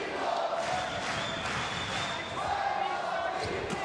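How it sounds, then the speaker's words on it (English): A sold-out boxing arena crowd chants Puerto Rico in a rising and falling roar, a broad wash of voices filling the venue with a few sharp thuds and shouts poking through. "Sold out crowd chanting Puerto Rico."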